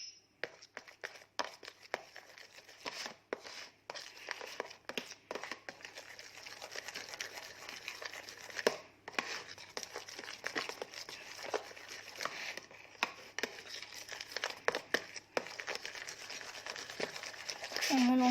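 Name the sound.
mixing slime made without glue or borax, with salt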